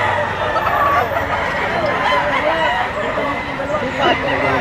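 Roosters crow loudly and repeatedly amid constant clucking and chatter of many chickens at a crowded poultry market, with a busy background.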